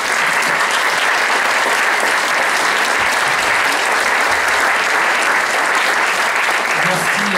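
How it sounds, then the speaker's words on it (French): A room full of people applauds the participants at an evening event, loud sustained clapping with a dense, even texture that carries on without a break. "Je pense qu'on peut les applaudir."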